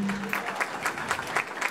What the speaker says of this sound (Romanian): hai să-i încurajăm cu un set de aplauze că merită din plin